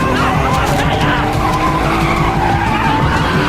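A car tears away with loud, sustained tyre skidding and engine roar in a film chase scene, fleeing pursuing thugs; the screech fills the whole stretch without pause.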